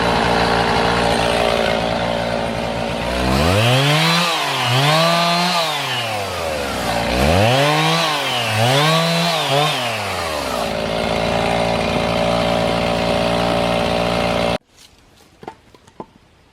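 A chainsaw bucking up firewood outdoors, loud and close, with a steady high idle punctuated by repeated revving surges as the chain cuts through logs, then stopping abruptly, leaving a few faint knocks.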